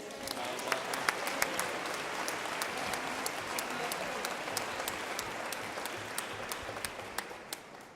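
An audience at an end-of-year concert in Villorba gives sustained dense applause, with a few sharp individual claps standing out above the steady crowd wash, and faint voices underneath.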